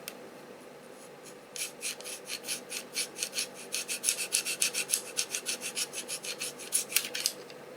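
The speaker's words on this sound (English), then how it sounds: "This is the tip of the screwdriver. It's a flathead screwdriver. Let me scratch the other side." A flathead screwdriver tip scratches across a Cerakote-coated airsoft part in a quick run of rhythmic rasping strokes, close and crisp, that speed up and then stop, with no voices.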